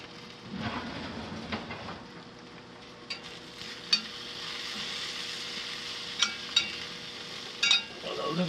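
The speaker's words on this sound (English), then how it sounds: "I want to stir and check everything" Food sizzling in a cast iron pan as it is stirred for a stuffed turkey loaf, a steady frying hiss with occasional scrapes and clinks of a utensil against the pan.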